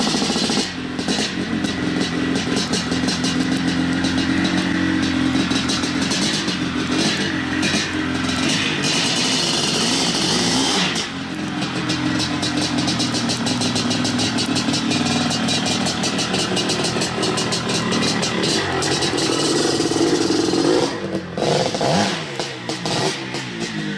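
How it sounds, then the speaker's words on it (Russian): A Maico 700 two-stroke motorcycle with a 684 cc, 82-horsepower engine runs loud and continuously, its buzzing exhaust rising and falling as it revs throughout. "Его двухтактный 684-кубовый двигатель выдавал сумасшедшие 82 лошадиные силы"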